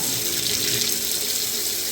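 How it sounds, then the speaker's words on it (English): Water runs steadily from a newly plumbed kitchen sink tap with hot and cold supply, a continuous close hissing splash at strong pressure with no voices. "So we've got a nice running sink now, hot and cold."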